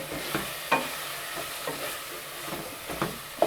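Turmeric stirred into chicken and potato masala in a pan, with a soft background sizzle and a few light scrapes and taps of a spoon, close and moderately quiet.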